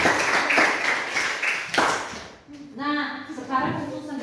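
A class group in a Christian religious education lesson claps together in a short burst that fades, followed by a speaking voice over the last stretch.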